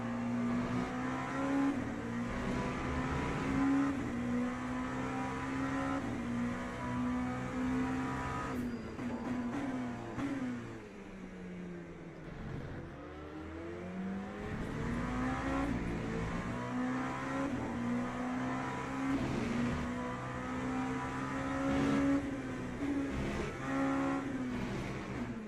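A race car engine in the Le Mans Ultimate racing game drones steadily, dipping as it slows and then climbing back up through the revs, loud and continuous with a faint tire squeal.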